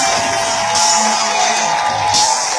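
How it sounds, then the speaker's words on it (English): A large audience at a corporate event roars with sustained cheering, whoops and applause, a loud continuous crowd swell filling the room. "give a warm round of applause to our senior vice president"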